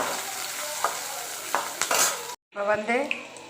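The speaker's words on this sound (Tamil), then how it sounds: "நறுக்கி வச்ச பொடியாக நறுக்கிற வெங்காயத்தை இதில் போட்டுக்கலாம். இப்போ இதை நல்லா வதக்கிக்கலாம்." Chopped onions sizzle steadily in hot oil for potato masala while a spoon scrapes and stirs the pan, with a brief pause near the end.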